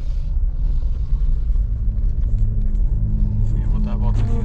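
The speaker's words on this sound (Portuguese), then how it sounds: "Eu vou parar o carro aqui, Renato, segura aqui." Car engine rumbling low and steady as the car pulls to a stop, a continuous near drone with no talk over it.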